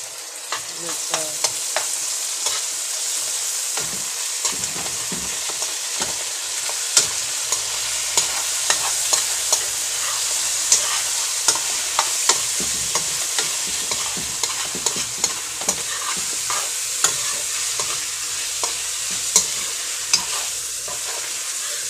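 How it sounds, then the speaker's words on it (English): Garlic and ginger paste frying in a pan alongside meat for chicken biryani, a constant bright sizzle with frequent crackling pops and occasional stirring clicks, steady and close throughout, nobody speaking. "I'm going to add my garlic and ginger paste."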